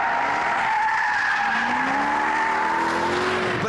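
Supercharged car engine pulling hard through the gears, a loud continuous rising whine with steady engine drone and tyre roar close by, no speech.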